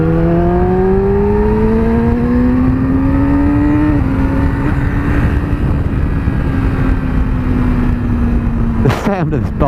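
A 2017 Yamaha R6 motorcycle engine revs high and loud, its pitch climbing steadily, shifting once, then holding, heard up close over heavy wind rush from riding.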